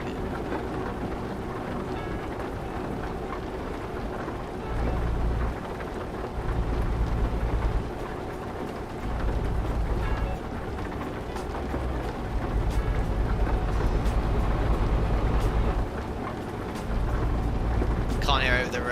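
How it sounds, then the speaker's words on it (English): Steady rain and low rumbling thunder play in the trucking game Euro Truck Simulator 2, a constant moderately loud wash with deep swells, and a voice briefly speaking near the end. "Can't hear over the rain."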